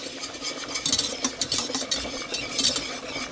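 Flour being stirred into melted butter in a pan to make a roux paste, a utensil scraping and clinking in quick irregular strokes with a soft sizzle underneath, close and alone.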